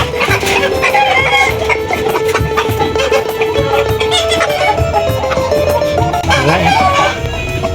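Layer cross LSS and BPR hens with roosters in a coop, clucking and squawking continuously and close by, with a few sharper calls and crow-like cries rising over the steady flock chatter.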